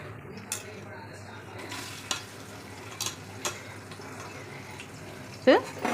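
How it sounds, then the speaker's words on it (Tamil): Onions go into hot oil with whole spices, rose petals and bay leaf for kuska biryani, frying with a soft steady hiss and a few distinct stirring knocks near the pan. "அது இதானதுக்கப்புறம் வெங்காயத்தை போடுறோம்"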